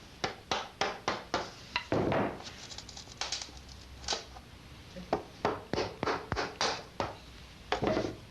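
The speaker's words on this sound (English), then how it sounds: "Now with a chisel, I begin to tap off these pieces," A chisel is tapped to knock off wooden end pieces on a handmade guitar, producing a long series of crisp, close, evenly spaced strikes with brief pauses between them.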